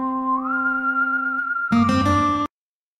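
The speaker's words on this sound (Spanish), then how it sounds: "pues tenemos por ejemplo un silbidito." A clean whistled melody in a music track holds a steady high tone, then a brief fuller chord section enters before cutting off abruptly.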